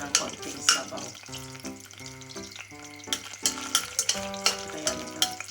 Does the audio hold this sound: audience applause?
no